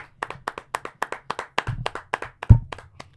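A round of applause with clear, rhythmic hand claps, about a dozen sharp close claps spread evenly across a few seconds, with one heavier thump near the end and no talking.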